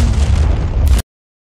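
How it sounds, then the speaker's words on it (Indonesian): A gas canister explodes in a film, one loud, close boom with a roaring burst that holds for about a second and then cuts off abruptly into silence. "maka Tuti pun menembak gas tersebut pintar sekali"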